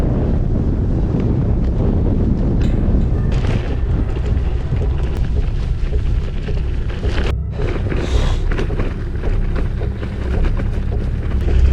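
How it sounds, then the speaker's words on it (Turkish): Strong wind roars steadily into the microphone on a mountain road between Trabzon and Gümüşhane during a bikepacking ride: loud, constant buffeting rumble with no break and no speech. "Burası çok fena esiyor neredeyse savuracak yani."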